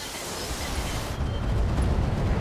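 A sniper cannon shot and explosion in the BattleTech video game, a loud broadband roaring blast that swells midway into a heavier rumbling low end and holds steady.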